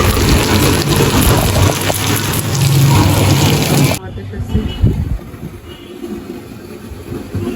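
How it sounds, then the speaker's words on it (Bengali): Water gushes loudly into a pot of pointed gourd curry, a dense steady rush for about four seconds, then drops to a quieter, uneven splashing and bubbling. "আমি পটল তরকারিটার মধ্যে জল দিয়ে দিলাম।"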